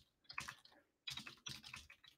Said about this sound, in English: I was kind of talking and typing